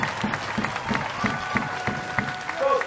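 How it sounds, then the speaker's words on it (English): A crowd claps steadily in rhythmic applause, fairly close, with a few faint voices mixed in. "give them a massive round of applause"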